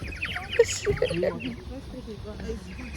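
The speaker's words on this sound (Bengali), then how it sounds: "এখানে পাখির বাসি বাজাইতেছে" Birds call in short bursts outdoors near a waterfall, a few quick chirps early on over a constant background rush, with faint voices mixed in.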